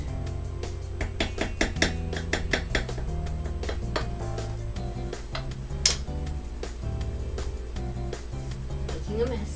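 Butter is mixed into a mixture in a bowl for chocolate croissant dough, giving a busy run of clinks, taps and scraping knocks against the bowl, close and fairly loud, while someone talks.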